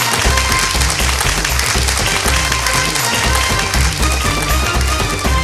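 An audience applauds after a Malayalam song performance on a comedy show, loud, dense clapping that carries continuously, with a heavy low rumble and some crowd noise mixed in.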